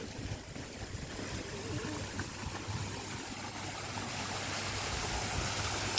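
Water falls in a small waterfall stream at a fish-release spot: a steady, broad rushing wash, fairly faint and continuous, with no voices.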